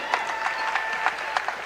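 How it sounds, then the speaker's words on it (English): Basketball gym crowd at a Smoky Valley vs. Larned high school game applauding state wrestling qualifiers, steady scattered clapping with a few sharper claps, moderately near, beneath a faint tone. "A round of applause here for the athletes that have qualified for state wrestling for Smoky Valley"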